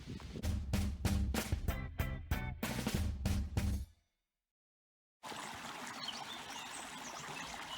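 A farm creek flowing at a gentle, steady pace, a continuous soft wash of water after an earlier stretch of rhythmic noise and a short silence.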